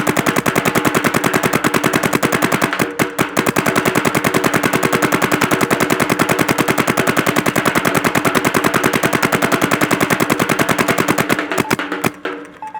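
An Ansgear Luxe Idol paintball marker empties a pod in a rapid, continuous stream of loud, close shots, with a couple of brief pauses and a ragged burst at the end.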